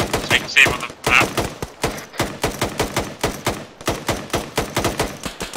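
Rapid gunfire in the military shooter Arma 3, dense bursts of close shots with sharp repeated cracks and thumps at a steady, fast rhythm throughout, loud and continuous.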